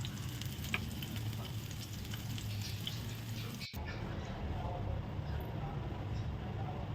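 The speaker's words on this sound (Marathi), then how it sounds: "व्यवस्थित हलवून घ्यायचं, म्हणजे सगळ्या बाजूंनी लसूण भाजला जातो." Garlic roasting in a pan for a traditional Maharashtrian modak amti, sizzling steadily with stirring scrapes throughout, a brief cut midway, and talk alongside.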